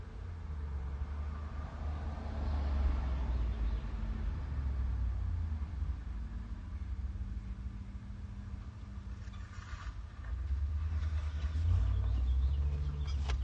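Street traffic with cars passing, a steady low rumble that swells louder as vehicles go by, with no talk.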